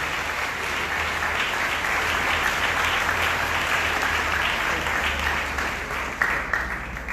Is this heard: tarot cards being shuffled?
no